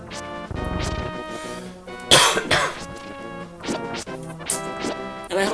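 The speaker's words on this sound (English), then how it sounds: "And I hope that's not loud coughing" A person coughs and clears their throat several times in harsh, close bursts separated by short pauses, with no speech.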